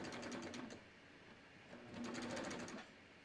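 A serger stitches through fabric and chains off the edge, running in two steady, close bursts of fast mechanical whirring with a short slower lull between them.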